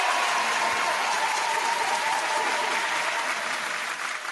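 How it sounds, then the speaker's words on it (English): Steady applause from a studio group during a mixshow recording, dense and continuous clapping that holds at an even level before easing slightly at the end, with no talking over it. "Round of applause for that."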